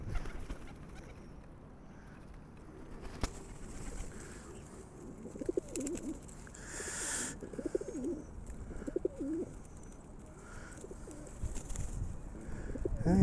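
Pigeons coo repeatedly at close range during bird feeding in Leazes Park, Newcastle upon Tyne, soft throaty rolling calls over a quiet outdoor background with faint rustles.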